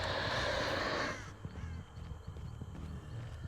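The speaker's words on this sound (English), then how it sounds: "All these crows tell me no one's here." Crows cawing in the horror video game Dead by Daylight, a loud burst of flapping and caws in the first second, then fading into a quieter ambient murmur with soft scattered calls.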